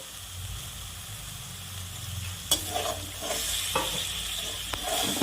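Spices sizzling and being stirred in a hot pan for a Bengali duck egg and small potato curry, with a steady frying hiss and a few sharp scraping clatters from the spoon.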